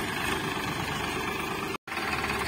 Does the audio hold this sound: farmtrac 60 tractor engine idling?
yes